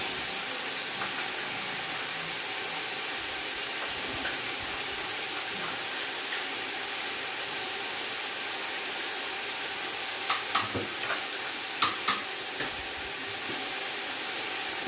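Green chili and ginger paste frying in a pan at home, a steady broadband sizzle and hiss throughout with a few sharp clinks of a utensil near the end.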